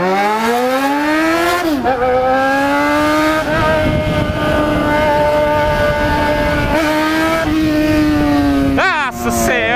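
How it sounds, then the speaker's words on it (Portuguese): A Yamaha XJ6 motorcycle fitted with a cheap exhaust revs hard in traffic, its engine note climbing and dropping repeatedly in loud, close, raspy surges. "Aqui é escape de 30 real, rapaz. Não é escape de 900, não."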